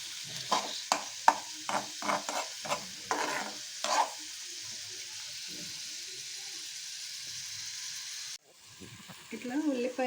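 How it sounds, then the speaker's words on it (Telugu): Onions sauté in a pan for mango chutney, with a series of sharp scraping stirs and clinks over a soft sizzle, followed by a steady, faint hiss of frying alone. "ఇట్లా ఉల్లిపాయలు అంతా బాగా మగ్గాలండి."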